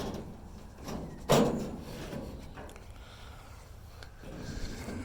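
A small door on a mobile chicken coop, an eggmobile, opens with one sharp knock followed by quieter rattles and shuffling, close and without talk.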